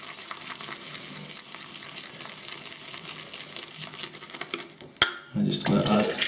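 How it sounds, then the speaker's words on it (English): A shaving brush swirls shaving soap lather in a bowl, making a continuous wet, crackly swishing; it stops abruptly, then resumes louder and thicker near the end. "Then just work the bit that you haven't got any soap in, the opposite side from where you've collected it, and then swirl it round, gathering that soap"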